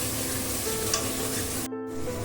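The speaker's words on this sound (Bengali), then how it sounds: "3 থেকে 4 মিনিটের মতো মশলাটা একটু কষিয়ে নেব।" Spices with Kashmiri red chili powder sauté in a pan for a fish mustard-poppy curry, a continuous close sizzle with soft stirring scrapes and a brief break near the end.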